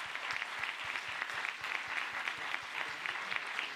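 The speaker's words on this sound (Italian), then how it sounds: "Un applauso anche alla nostra Chanel Monique." Applause at a film festival closing ceremony greets a guest called up on stage, a brisk, steady patter of many hands clapping at moderate distance and even loudness throughout.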